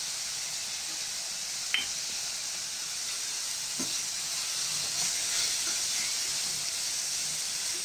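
Samosa filling frying with turmeric until brown, a steady close sizzling hiss with a couple of faint clicks of a utensil against the pan.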